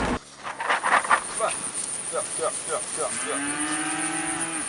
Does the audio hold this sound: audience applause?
no